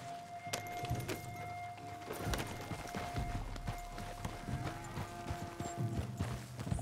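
Horse hooves clop in Red Dead Redemption 2, a steady run of close thudding steps that carries on over game music and ambient noise, with no talk.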